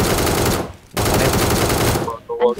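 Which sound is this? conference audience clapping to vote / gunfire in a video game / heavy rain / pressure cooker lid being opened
gunfire in a video game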